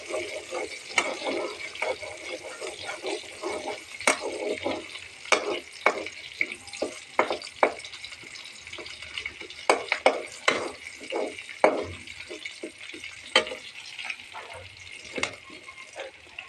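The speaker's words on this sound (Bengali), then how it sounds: "এখন বন্ধুরা আমি ফোড়ন দিয়ে দিচ্ছি সজনা ডালটায়।" Garlic, onion and dried chili sizzle in hot oil as a tempering for drumstick lentil dal, with an even frying hiss broken by repeated sharp clinks and scrapes of stirring.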